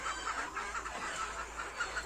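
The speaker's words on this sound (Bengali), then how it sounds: "একেবারে আমার এটা অরিজিনাল দেশি মুরগি" Native desi hens clucking in a steady run of short, soft calls over a constant background hum, no talking.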